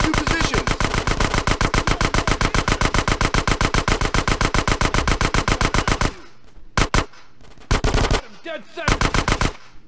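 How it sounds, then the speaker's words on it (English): Gunfire in the video game GTA San Andreas: roughly six seconds of loud, rapid automatic fire, then several short bursts with gaps between them, and a brief shouted voice. "Get some suppressing fire in there!"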